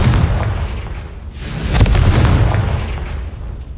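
A Confringo spell blast in the Hogwarts Legacy video game, a loud booming burst that swells mid-clip and rumbles on under dense, low game noise.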